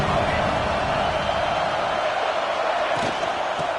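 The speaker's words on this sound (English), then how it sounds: "This crowd bringing the energy and noise early." Continuous roar of a large college football stadium crowd, dense and steady throughout with no clear individual voices.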